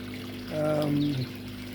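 Water pours continuously into a DIY garden pond, a steady trickling wash with a brief voiced sound rising over it midway.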